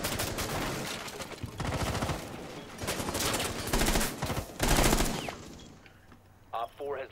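Rapid automatic gunfire in a Rainbow Six Siege match rattles in loud sustained bursts, several volleys back to back, then fades out, with a brief voice near the end.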